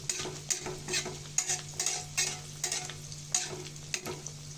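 Chicken vegetable rolls fry in hot oil in a pan, a steady close sizzle broken by short clattering bursts and stirs as they are turned, with no voices.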